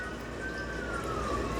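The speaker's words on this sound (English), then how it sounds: "there's a bunch of sirens going off right now" Faint wailing sirens rise and fall in the distance over a steady background rumble, with no voices.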